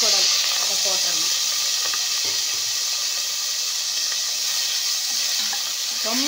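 Mutton suthu kozhuppu (intestine fat) sizzles steadily in a pan with softened onions, a continuous close hiss with a few faint stirring clicks throughout.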